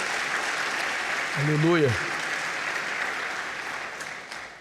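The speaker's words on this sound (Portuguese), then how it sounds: "Vamos aplaudir a palavra do Senhor?" A church congregation applauds in a steady, full roomful of clapping, while a voice briefly calls out over it partway through.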